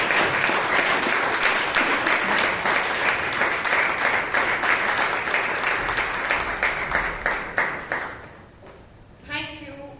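Warm audience applause greets the Toastmaster at a Bangalore Toastmasters club meeting, dense clapping that fades out near the end before a voice begins speaking.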